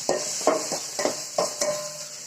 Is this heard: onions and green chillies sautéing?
yes